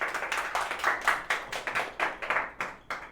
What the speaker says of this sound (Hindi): जोरदार तालियां हो जाएं सालू के लिए